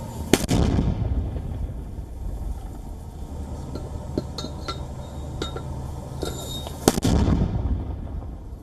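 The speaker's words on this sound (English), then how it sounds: "It shows how the militants allegedly firing mortars in Gaza as the war rages on." Militants fire mortars in Gaza during the war. Two loud booming launches a few seconds apart stand over continuous rumbling outdoor noise, with faint clicks and clinks in between.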